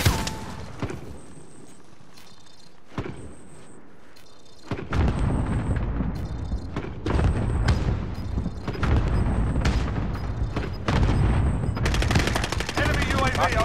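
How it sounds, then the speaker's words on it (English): Gunfire from enemies in a multiplayer video game match, with bursts of automatic fire and single shots that repeat and grow louder and denser toward the end, among other game sounds. "They're shooting down there"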